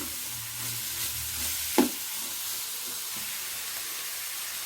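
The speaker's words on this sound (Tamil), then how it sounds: "இதையும் லேசாக வதக்கிக்கலாம் நம்ம எல்லாம் சேர்த்து" Vegetables and leftover rice sauté in a pan with a steady sizzle and hiss, broken by a single stirring scrape midway.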